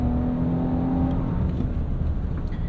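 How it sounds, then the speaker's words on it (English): A 2025 Infiniti QX80 Autograph's V6 drones steadily from inside the cabin while driving, a continuous grainy engine hum at high revs with no talking. "The V6 itself, it's a little grainy, and it does sound like any other Nissan when you are at high RPMs"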